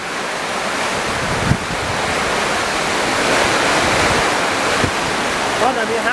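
Strong summer storm wind roars continuously around a house, a dense rushing noise with gusts and buffeting against the microphone, loud and close throughout.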